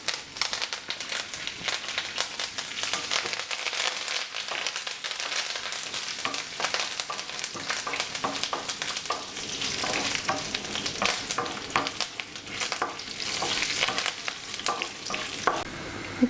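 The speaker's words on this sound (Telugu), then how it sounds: "ఇప్పుడు ఇందులో తాలింపు వేసేసుకున్నాం" Mustard seeds, cumin, dried chillies and curry leaves crackle and sizzle in hot oil for a bottle gourd stew tempering, a close, continuous frying hiss with sharp popping bursts and stirring.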